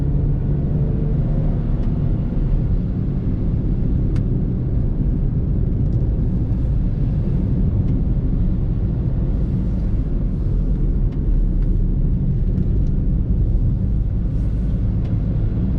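A 2016 Perodua Axia drives in third gear, with a steady loud low engine and road rumble filling the cabin throughout and no talk.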